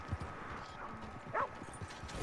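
Horse hooves clip-clop at a steady walking rhythm as a horse is ridden in a video game, moderately loud with some faint background game sounds.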